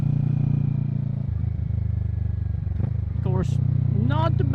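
A Kawasaki Z650 motorcycle fitted with a Yoshimura Alpha exhaust burbles at a close, steady idle, then gives a couple of sharp throttle blips that rise and fall quickly.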